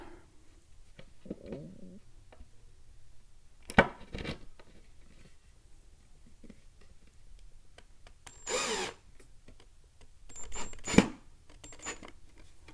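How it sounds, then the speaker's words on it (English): A power drill drives a number 5 screw into a Teamson Kids Little Chef Florence toy kitchen during assembly, in a few short, fairly quiet whirring bursts separated by near-silent pauses. "we're going to grab a number 5 screw from this side, and we're going to screw that in from here"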